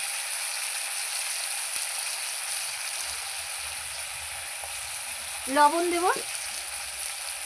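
Chopped onions go into frying flat beans and the pan hisses with a continuous sizzle. The sizzle runs steadily beneath a short spoken phrase.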